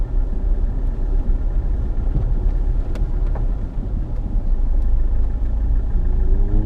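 A car engine labours at low revs to keep from stalling while driving on Salisbury Plain, giving a steady, loud, close rumble with wind buffeting the microphone throughout.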